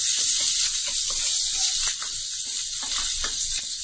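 Chopped onions frying in a pan for rava upma, a loud, steady bright sizzle with crackling pops throughout, close and continuous with no talking.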